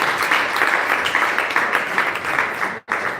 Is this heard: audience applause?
yes